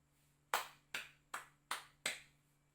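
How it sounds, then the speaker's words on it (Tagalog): Five single hand claps ring out in an even, steady rhythm, each a crisp slap with a short fading tail, fairly quiet and with no talk around them. "Mahusay, bigyan ng 5 palakpak."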